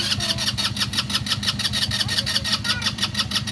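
A 200cc ATV engine cranks and sputters in a steady pulsing rhythm, close and loud throughout, with no voices.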